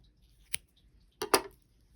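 Two quick snips of scissors cutting the yarn tail of a crocheted beanie hat, one short cut followed by a slightly longer double snip, close and clear in a quiet room.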